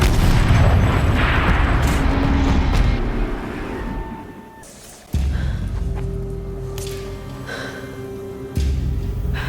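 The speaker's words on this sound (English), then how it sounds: "Rotate turret! And fire!" Turret fire in the video game Horizon Zero Dawn lands as heavy booming blasts over a dense, loud rumble, with abrupt surges and cut-offs as the shots hit, and no voices.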